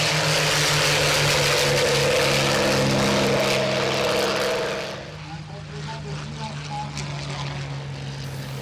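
Propeller aircraft fly in formation over the La Ferté-Alais airshow, a loud, steady droning of engines that eases slightly after about five seconds and carries on beneath faint background voices.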